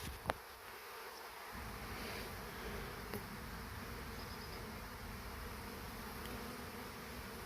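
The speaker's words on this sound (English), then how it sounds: "Good thing about packaged bees, it's a swarm in a box." A package of honeybees in its shipping box gives off a steady, dense buzz that holds evenly throughout, close by and moderately loud, with a couple of brief clicks on top.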